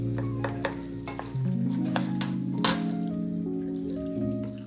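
Spicy zucchini pasta with herbs and Pecorino Romano sizzles and is stirred in a pan, with loud frying hiss, scraping and clinks of a utensil over a few seconds and no talk.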